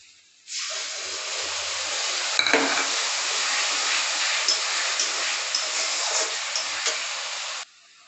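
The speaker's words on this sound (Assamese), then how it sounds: "এয়া পিহি থোৱা মছলাখিনি দি দিম" Ground spice paste is added to a hot pan while preparing a Bihari-style katla fish dish and fries with a sudden loud sizzle that holds as a steady hiss for about seven seconds before cutting off.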